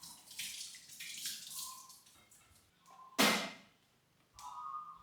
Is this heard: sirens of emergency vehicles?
no